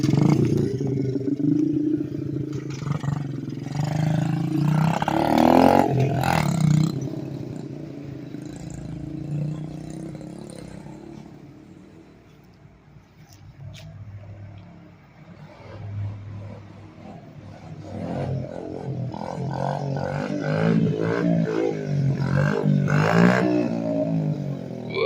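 A 2005 Honda CRF50F kids' dirt bike buzzes along nearby, its small engine revving and easing off, fading somewhat midway and then climbing again with rattling clatter.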